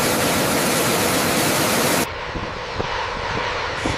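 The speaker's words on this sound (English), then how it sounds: "As the aircraft accelerates, the pilot gently raises the nose about 10 degrees just before reaching takeoff speed" An A-10 Warthog jet's engines roar during a takeoff run, a loud, steady broadband rush that drops abruptly to a quieter, thinner hiss halfway through, with no voices.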